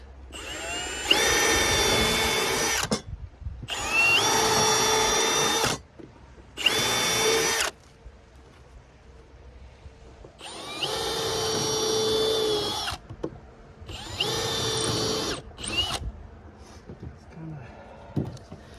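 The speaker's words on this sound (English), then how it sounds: "Trying to drill off where my screw is gonna be" Power drill boring a pilot hole for a screw in wooden beach stairs, running in five loud whining bursts of a few seconds each separated by short pauses, with a voice speaking in between.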